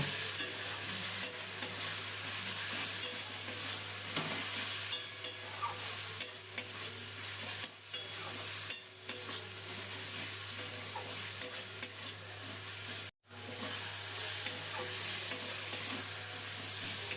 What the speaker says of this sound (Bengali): এখন এই গুঁড়ো মশলাগুলো বাটা মশলার সাথে ভালো করে কষিয়ে নেব